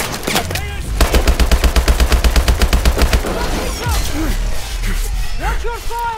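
Rapid automatic gunfire rattles in a loud, steady burst in the Call of Duty Advanced Warfare video game, then breaks into scattered shots and combat noise with voices calling out.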